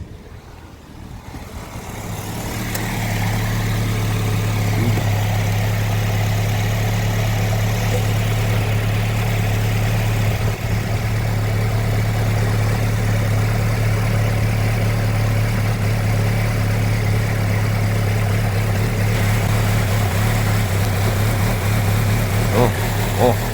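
A car engine that has just started settles into a steady, loud, low rumbling idle that holds evenly throughout, heard close up, with someone talking over it.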